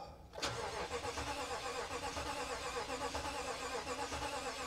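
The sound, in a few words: Toyota Tundra engine cranking, struggling to start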